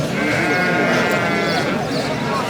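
Goat at a livestock market in southern Tunisia, bleating loudly and close by in one sustained wavering call, with crowd noise beneath.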